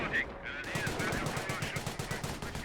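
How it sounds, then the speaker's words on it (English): A Bren light machine gun fires in the video game Company of Heroes, a British squad weapon in battle: quick, rhythmic bursts of close, loud automatic fire amid other game noise. "Repair Sapper and Bren's firing away."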